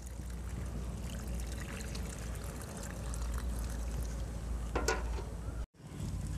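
Water is poured steadily onto packed soil in a sack, a close, continuous gurgling stream that runs for several seconds and then stops abruptly.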